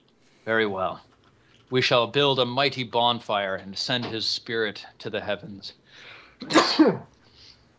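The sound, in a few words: sneeze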